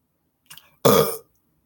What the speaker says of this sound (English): Sad for that burp.